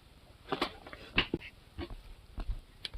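A soaking-wet dog whines and whimpers in short, scattered cries, fairly close and moderately quiet, with no talking.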